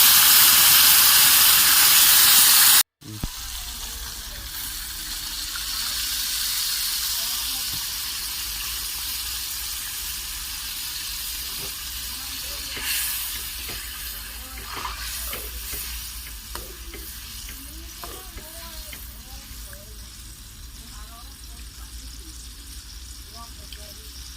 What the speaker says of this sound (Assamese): ইয়াত মই পিচি থোৱা বিলাহীখিনি তেলত দি দিছোঁ